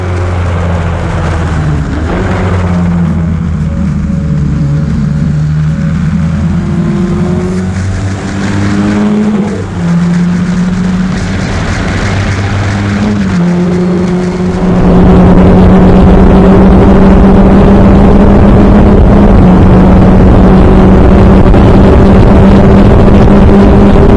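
Classic Formula Ford race cars howl around a circuit in close company, engines droning loudly and shifting pitch through gear changes, then surging louder as the recording car accelerates hard.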